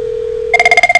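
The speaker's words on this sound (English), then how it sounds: "This is the normal ringtone" Cisco CME IP phone plays its normal ringtone: a steady single tone gives way to a rapid, evenly pulsed electronic warble, clear and close with no talk.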